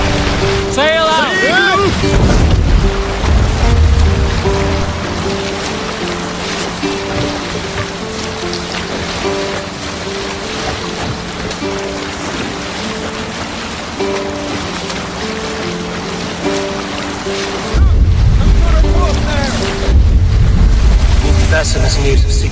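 A longship sails across the sea in Assassin's Creed Valhalla, with steady rushing water and wind under a background musical drone, heavier splashing surges near the start and end.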